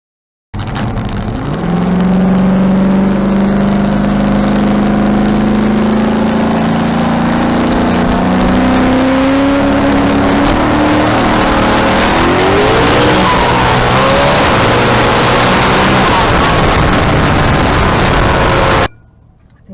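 A loud race car engine revs and climbs steadily in pitch as it accelerates, roaring continuously for nearly twenty seconds before cutting off abruptly; a right-hand-drive Skyline race car.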